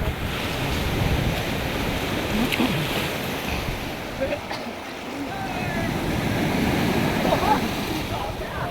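Sea surf rolls onto Dublagadi beach near Balasore with a constant wash of breaking waves and buffeting wind on the microphone, and a boat and swimmers nearby.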